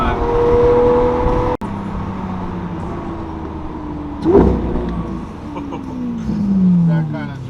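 Lamborghini Aventador cruising on the highway gives a steady engine and road drone from inside the cabin, with a sharp click, a brief surge midway and rising engine notes near the end.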